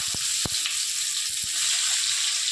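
Bay leaves and onion fry in hot oil for a Bengali prawn dish, giving a steady, close bright sizzle throughout, with a few soft low knocks from the pan or spoon.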